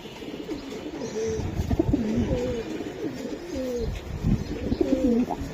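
Pigeons displayed at a sale, with Hammer and Silver Giribaz breeds on offer, coo in repeated rolling phrases, several birds overlapping nearby, loud and continuous with no talk.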